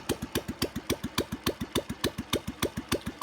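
Old Royal Enfield Bullet motorcycle engine idling with its silencer removed, giving a loud, steady, rapid thumping exhaust beat of about six pulses per second, close up and heard alone.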